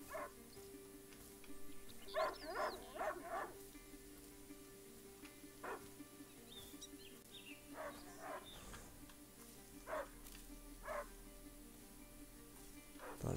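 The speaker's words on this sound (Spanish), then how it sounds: "Hay otro perro." Dogs bark in the medieval stealth game A Plague Tale: Innocence: a quick run of three or four barks, then single barks, some at a distance. Rain and soft ambience sit beneath them.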